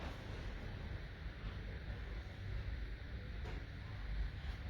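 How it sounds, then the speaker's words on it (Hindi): Steady outdoor wind rushes and buffets across the microphone in a continuous broadband roar, loud and unbroken, with no clear speech over it. "बड़ी प्यारी हवा चल रही है"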